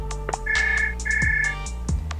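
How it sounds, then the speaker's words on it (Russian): A phone rings in a detective romance story video game: a bright electronic ringtone with two sustained trilling bursts over soft background game music and low hum. "Телефон Владимира зазвонил."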